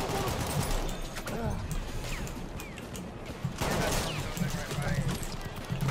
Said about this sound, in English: Getting shot, I'm getting shot.